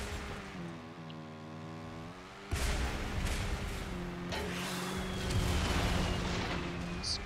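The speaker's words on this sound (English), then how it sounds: "Explosions and all sorts of crap everywhere." Explosions in the motorbike video game Trials Evolution come as a deep blast, then rumbling booms over a steady engine drone and game noise. The sound is moderately loud and continuous, with no speech.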